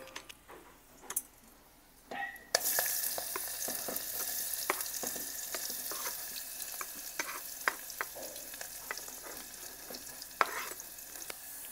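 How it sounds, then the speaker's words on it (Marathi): Onion and whole spices, including bay leaf, frying in a pan: after a quiet start, a loud steady sizzle bursts in and holds, dotted with sharp crackles and pops, with no talking. "कांदा थोडं भाजून होऊ देत नंतर टोमॅटो टाकतो"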